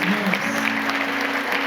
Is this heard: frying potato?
no